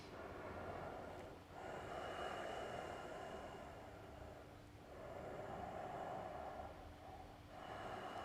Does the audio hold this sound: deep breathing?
yes